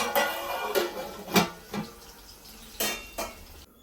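A metal lid clanks onto a pot of soaked, drained rice, several bright ringing knocks and scrapes of metal on metal spaced unevenly and close by, with no voices.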